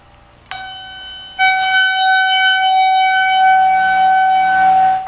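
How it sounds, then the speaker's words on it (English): Electric guitar note plucked with the volume rolled down, then swelled up so it rises like feedback; one sustained tone fades in and holds steady for several seconds, with no talking. "So it makes it sound like feedback coming in."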